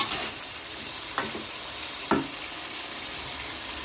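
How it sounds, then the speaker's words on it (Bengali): Potatoes and pointed gourd sizzle steadily in a pan of cooked spices, the close hiss interrupted by two sharp stirring scrapes, with no voices. "এই যে আলু পটল আগে আমি কষিয়ে নিব"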